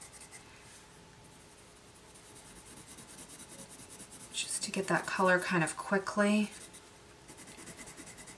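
Derwent Lightfast colored pencil scratches across paper with light to medium pressure, a soft steady scribbling that swells into a brisk, louder stretch of rapid strokes, while a person speaks softly over it.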